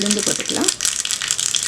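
Urad dal dropped into hot oil with mustard seeds for a tempering, crackling and rattling in a continuous sizzle, with a voice talking briefly at the start.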